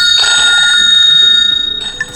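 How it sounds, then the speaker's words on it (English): A ringtone plays on a Huawei Nova 11i phone, a loud, bright electronic chime with a steady ringing tone that fades briefly and then returns, with no voices. "if you want to listen how the particular ringtone sounds"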